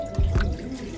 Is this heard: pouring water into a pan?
yes